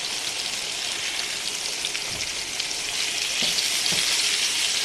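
Sausage frying in a pan until crispy, a dense steady crackling sizzle close up, with a few faint knocks underneath and no voices.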